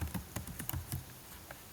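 Someone types on a computer keyboard: a quick, soft run of close key clicks that slows and trails off after about a second.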